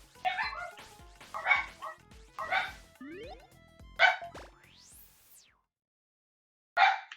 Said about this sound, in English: I don't know what the deal is, but now they're in here barking at me